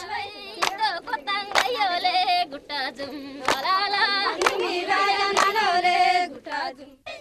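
In rural Andhra Pradesh, women dancing in a circle clap sharply in rhythm as they step and hop, the claps landing at intervals over their singing voices, close and fairly loud.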